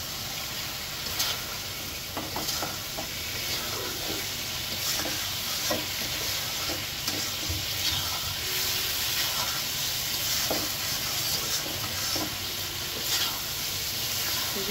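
Eggplant and egg frying in a home kitchen pan for a Bengali dish, giving a steady close sizzle with occasional stirring scrapes throughout.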